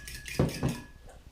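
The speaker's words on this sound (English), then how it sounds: "I like to whisk with a fork, not with a whisk right away" A fork whisks milk into batter in a mixing bowl in a home kitchen, giving two or three quick clinking scrapes against the bowl, close and fairly clear with no talking.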